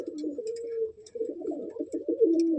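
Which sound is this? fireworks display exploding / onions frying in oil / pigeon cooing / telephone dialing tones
pigeon cooing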